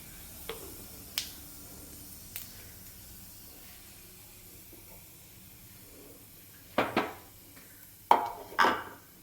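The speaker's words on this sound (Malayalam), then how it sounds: "ജീരകം ഒന്ന് പൊട്ടി വരുമ്പോൾ" Cumin seeds crackle in hot cooking oil, giving sparse sharp pops at first that grow into denser clusters of crackles toward the end, over a faint background hiss.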